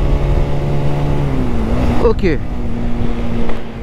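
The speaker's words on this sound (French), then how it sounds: "Alors on va freiner un peu de l'arrière, on rétrograde." A 2024 Zontes 125 C custom motorcycle slows on its rear brake and downshifts. Its steady engine drone dips in pitch and then settles at a lower note, with a brief voice near the end.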